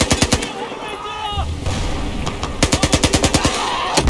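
Battlefield 4 gunfire during the Siege of Shanghai campaign: rapid automatic bursts of sharp, loud shots with a short pause in the middle, then another long rattling burst. A faint game tone runs underneath, and nobody speaks.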